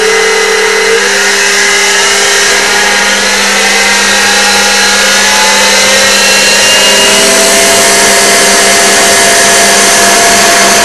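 An X2 mini mill converted to belt drive and running in its high belt range near 4000 RPM. It gives a steady, loud, even whine with a constant motor hum and no pauses throughout.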